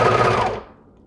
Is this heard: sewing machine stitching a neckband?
yes